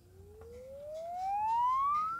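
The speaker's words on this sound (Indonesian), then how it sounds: "Untuk receiver atau earpiece ya, ini suara penerimaan teleponnya." A Samsung Galaxy A52s 5G phone earpiece plays a test tone as a single smooth rising sweep, faint and thin, sounding alone for about two seconds.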